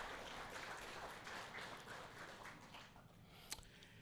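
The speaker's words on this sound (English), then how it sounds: "So give you all yourselves a round of applause for that." An audience at a community meeting claps in a steady, dense wash of applause that carries on for a few seconds before tapering off, ending with a single sharper clap.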